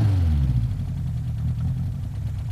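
Complicated four-camshaft car engine producing 110 horsepower, steady close idle with a deep low rumble and a slight falling note at the start, running alone without voices.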